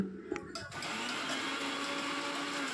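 A few clicks, then a mixer grinder starts up and runs with a loud, steady whirring drone, powdering cooled roasted ingredients.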